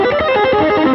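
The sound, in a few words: electric guitar with distortion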